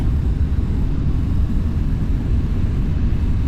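A steady, loud low roar of Airbus A340 jet engines at throttle in Flight Simulator X, a dense rumble that holds level throughout with no speech.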